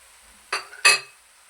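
Chopped ridge gourd with salt and turmeric is stirred in a pan, heard as two quick scraping, clinking strokes close by, with near silence around them.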